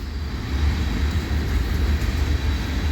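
A CPKC freight train led by GP20C locomotive 2246 rumbles steadily at Adelaide Street in London, Ontario, a constant low-pitched drone of engine and rolling cars with no pauses or talk.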